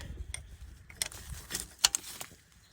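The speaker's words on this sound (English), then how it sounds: "Now I'm just gonna go ahead and tighten these down." Starter bolts being tightened on a 2014 Ford Focus, giving close, quiet metallic ratcheting and clicking in short irregular bursts with one sharper clink near the end.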